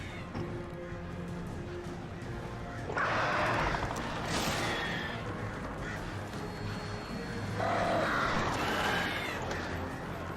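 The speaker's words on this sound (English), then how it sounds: "These birds really love to mess with me." Birds in the video game Alan Wake Remastered give two harsh, raspy caws a few seconds apart, loud and close against a steady wash of ambient game noise and rumble.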